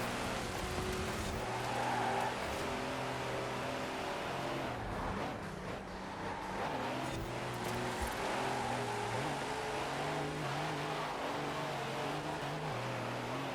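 A huge truck roars through a race in Forza Horizon 4, its engine droning loudly and continuously with rising and falling pitch as it shifts gears and surges through traffic, and no voices.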